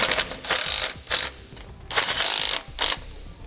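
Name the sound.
ratchet snugging down sway bar bolts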